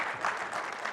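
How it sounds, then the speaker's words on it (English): Audience applause after two software demos at an enterprise app presentation, a steady dense wash of clapping filling a short moment without voices. "can we give a round of applause for those two demos?"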